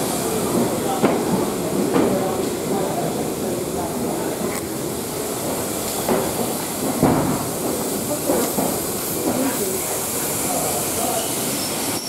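Steam locomotive 60163 Tornado rumbles and hisses steadily nearby as it arrives at Loughborough Central station, with clanking and occasional knocks over continuous mechanical noise.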